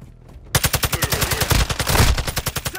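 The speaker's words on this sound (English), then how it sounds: "Taking effective fire!" A sustained, rapid burst of automatic weapon fire in the Call of Duty shooter erupts after a brief quiet moment and hammers on in an even, loud rhythm for a couple of seconds.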